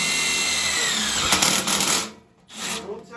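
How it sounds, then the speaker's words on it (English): A power drill bores a hole into a boiler flue for a combustion test, whirring loud and steady for about two seconds before cutting out, followed by a brief second burst. "we're going to drill a hole about 6 inches."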